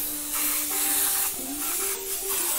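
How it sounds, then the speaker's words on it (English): An airbrush sprays paint onto a T-shirt in steady hissing bursts, a few short sprays of varying length with brief pauses, close and moderately loud over faint background hum. "an airbrush really is just a precise spray can"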